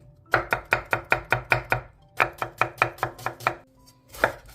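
A knife julienne-chops radish on a cutting board in two quick bursts of sharp, evenly spaced strikes, close and crisp, with a short pause between.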